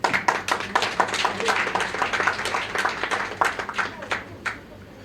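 Applause and clapping from an audience at a public event, a dense, crackling wash of many hands sustained for several seconds with sharper individual claps standing out, near and fairly loud, with some voices mixed in.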